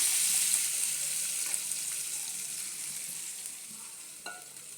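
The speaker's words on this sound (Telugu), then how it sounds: "ఇలా వేపుకోవాలండి." Ingredients for majjiga pulusu, a buttermilk curry, sizzle and fry in a pan while being stirred, a steady hiss throughout with a faint scrape of a spoon near the end.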